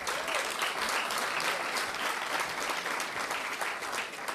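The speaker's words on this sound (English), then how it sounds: "I'm pleased to invite Lisa LaFlamme up to the stage now. We have, yes, please, round of applause" An Ottawa audience gives Lisa LaFlamme a round of applause as she is invited to the stage, with thick, even clapping that stays loud from start to finish.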